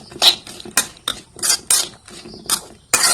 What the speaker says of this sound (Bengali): এখন গ্যাস সবটি আমি ভালোভাবে নেড়ে চেড়ে মিক্সড করে নেব, যাতে লবণটা সবজির মধ্যে লেগে যায়।